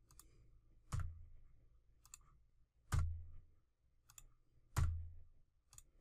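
Computer mouse buttons clicking while working in Xactimate estimating software, three firm clicks spaced about two seconds apart with fainter small taps between them, close and quiet.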